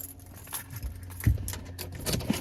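Keys jingle faintly inside a camper van, a few soft metallic clinks and rattles scattered over a couple of seconds against low background rumble, with no voices.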